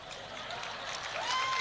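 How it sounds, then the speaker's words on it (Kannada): Audience applause at a live Kannada comedy show rises as a brief, broad wash of clapping from a crowd, growing slightly louder toward the end, with a voice speaking over it. "ಏನು ಚಪ್ಪಾಳೆ ಬೇಕಿಲ್ಲ"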